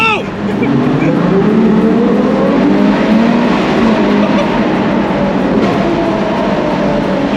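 A naturally aspirated V12 car engine drones steadily from inside the cabin while cruising, a loud, even hum with smooth harmonic tones shifting slightly in pitch, and no break across the stretch.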